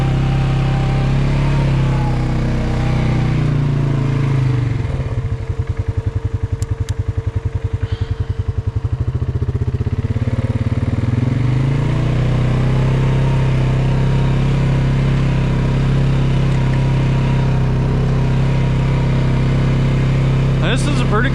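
A Polaris Sportsman 570 ATV engine drones steadily while climbing a trail in four-wheel drive, loud and close throughout, dipping briefly midway before the motor picks back up; someone talks over it.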